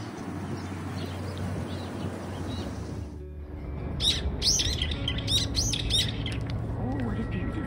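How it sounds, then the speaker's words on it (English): Birds chirp in quick, bright bursts from a nearby tree in a park on a cold February day in Seoul, rising over steady outdoor city hum and footstep noise after a few seconds. "Oh, what a beautiful bird."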